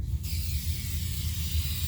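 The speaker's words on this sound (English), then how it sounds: "it would help if I spray it the right way" A Duplicolor spray paint can spraying base coat on a Ford Ranger rocker panel repair: a loud, steady hissing spray that starts abruptly and continues close up for the rest of the clip.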